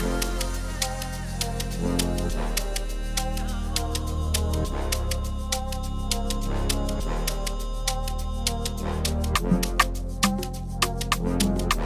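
Layered orchestral strings and brass from the BBC Orchestra plugin play a full, sustained progression, with steady rhythmic accents cutting through the dense arrangement.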